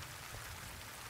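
In the video game Death Stranding, rain falls in a steady, dense hiss, a brief continuous patter with no other sounds.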